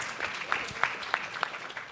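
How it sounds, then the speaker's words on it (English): Scattered audience applause at a women's leadership forum, a thin spread of claps with a few sharper hits, fairly faint and distant, lasting under two seconds. "A round of applause for Honorable Kioni."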